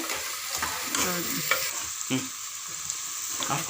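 Onions and peas fry in ghee in a pan for ghee rice, with a steady close sizzle broken by repeated scraping stir strokes, and no voices.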